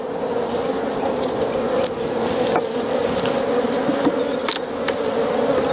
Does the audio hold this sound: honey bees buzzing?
yes